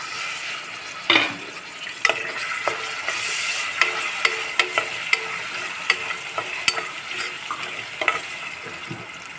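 Peas, tomato and onion fry in oil with mustard seeds, cumin, curry leaves and cardamom for tomato bath, a close, steady sizzle punctuated by a spoon scraping and clinking against the pan every second or so.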